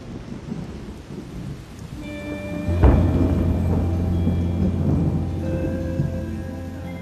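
Under a heavy overcast sky, a sharp, close thunderclap breaks out and rolls into a long, low rumble, while steady rain patters throughout.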